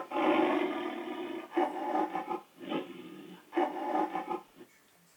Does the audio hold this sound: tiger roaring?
yes